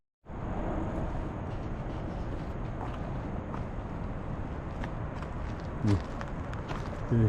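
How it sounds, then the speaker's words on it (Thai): Rushing water at Tallulah Falls, Georgia makes a steady, loud, broadband roar throughout, with a few short knocks near the end and no voices. "นี่เสียงน้ำนี่ท่านเป็นป่าดงคงเขาเนาะธรรมช"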